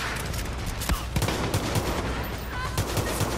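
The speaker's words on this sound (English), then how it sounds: "Who's shooting me?" Rapid gunfire in the Far Cry shooter game, loud bursts of repeated shots with sharp cracks in an irregular rhythm over a constant noisy battle background.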